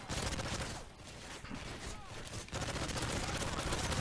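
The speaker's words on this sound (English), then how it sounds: "Let's just keep shooting you till they show up." Rapid bursts of gunfire in a Chaos Mode video game, dense repeated shots that break off briefly and then resume, loud and continuous with little pause, under a faint voice.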